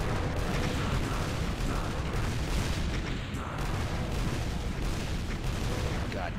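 Rockets launching and exploding in the Doom video game, a loud continuous barrage of booms and blasts overlapping into a dense roar with no pauses.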